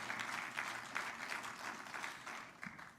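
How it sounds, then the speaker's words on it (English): Audience applause for President Trump at a gathering celebrating the American dietary guidelines, a soft, distant patter of many hands clapping with a few louder claps near the end. "Can we all hear a round of applause for President Trump"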